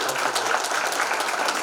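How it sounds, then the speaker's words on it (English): Audience applause at a CHRO leadership forum welcoming panel speakers onto the dais: a dense, steady wash of many hands clapping at once, loud and sustained throughout with no pause. "we have to have so much applauding and welcoming to them"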